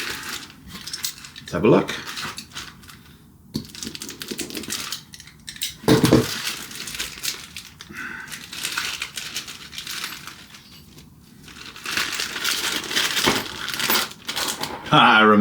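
Metal kit parts rattle and clink as a hand rummages through a parts bag for the steering assembly, bursts of jangling coming and going at close range, with someone speaking briefly between the noises.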